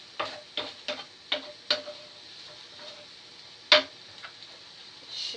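Rice stirred around in oil in a frying pan, a series of short scraping taps of a utensil against the pan over a faint, steady sizzle.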